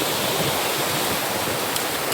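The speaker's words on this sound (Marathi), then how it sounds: "बघा धबधबा नजारा." Steady, dense rush of falling water at the Chandranagar waterfall, a continuous broadband roar with no pauses, filling the whole moment at fairly close range.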